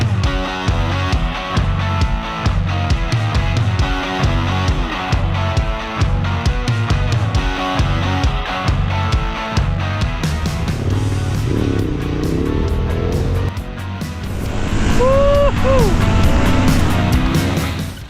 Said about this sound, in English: The V-twin engine is pulling very smooth.